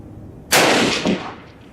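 A collectible Winchester WWII Victory Series cartridge fires on an outdoor range with a dirt berm: one loud, sharp report, then a rolling echo that fades within a second.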